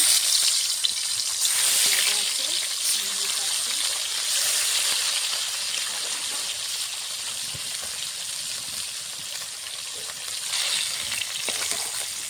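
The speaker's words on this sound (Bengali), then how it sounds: "বাকি মাছগুলো ভেজে নেব" Pieces of rohu fish fry in oil with a constant loud hissing sizzle that holds steady for the whole stretch, with faint scraping underneath.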